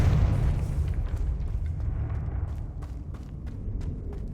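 A Confringo spell explosion in a Harry Potter video game, likely Hogwarts Legacy: a heavy, close boom at the start that decays into a long rumbling tail, with faint scattered crackles afterward.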